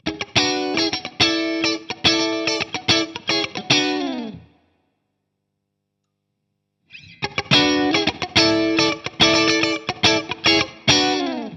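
A rhythmic electric guitar played through an effects pedal, choppy bright chords in bursts, then a few seconds of silence before the playing resumes.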